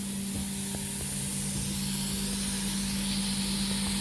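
Upholstery on a three-piece sectional being sprayed and rinsed during cleaning, a steady continuous hiss of spray over a constant low machine hum, close and even throughout with no talking.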